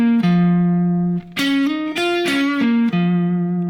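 Blues guitar lick on an electric guitar with mild distortion, a short phrase of sustained, bending notes that step up and then back down in a clear rhythm. The guitar is close and loud, and no one talks.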